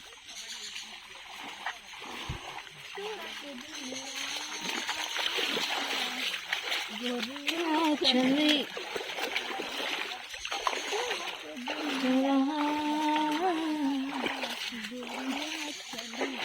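Items being washed by hand in a flowing stream on the Jhorjhori trail at Ponthichila, Sitakunda: continuous splashing and rushing water up close, with voices talking over it throughout.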